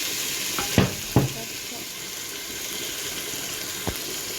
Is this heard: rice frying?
yes